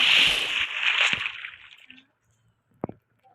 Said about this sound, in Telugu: వాటర్ అయితే కలెక్ట్ చేసుకుందాం.